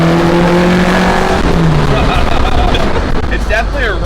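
A high-revving naturally aspirated engine in a stripped-interior 1986 Corolla, revs climbing sharply with a loud raspy crack, then tire noise and shifting tones as the car drives on, close and loud with a voice talking over it.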